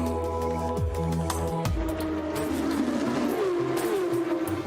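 Porsche Mobil 1 Supercup race cars roar past one after another, with engines revving and dropping in pitch as they pass, plus brief tire noise, loud and close with no talk.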